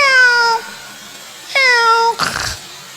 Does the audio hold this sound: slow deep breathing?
no